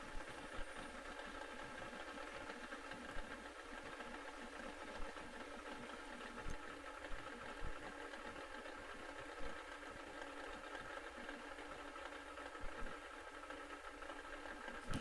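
Pro Fuel nitro drag racing motorcycles at an AMRA meet, engines idling with a steady low throb and rhythmic pulsing, faint and distant against a constant crowd-like hiss.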